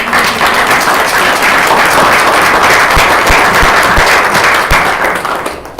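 Audience applause at a school board of education meeting as chapter members of the AAUW stand, a dense, steady round of clapping filling the room for several seconds before tapering off.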